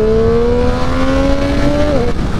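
A Triumph 765 Street Triple RS three-cylinder motorcycle accelerates through a run of curves, its engine holding a loud, steady, slightly rising whine close up over wind roar before the pitch dips briefly.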